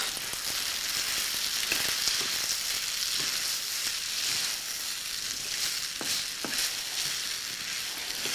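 Pasta sautés with garlic in olive oil, a steady close sizzle broken by scattered clicks and scrapes of stirring throughout, no voices.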